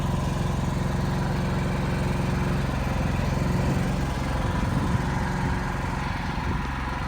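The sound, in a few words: generator engine running in the cold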